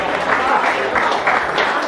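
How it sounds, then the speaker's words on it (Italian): An audience at an osteria's 30th anniversary celebration in Camisano applauds steadily and densely, with voices mixed into the clapping throughout. "un grandissimo applauso a tutti quanti"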